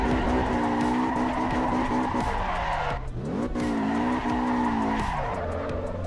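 A Mercedes in a racing sim skids hard, its tires squealing over a steady engine drone that dips briefly mid-way, loud and close throughout with no talking.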